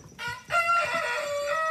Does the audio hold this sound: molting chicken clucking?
yes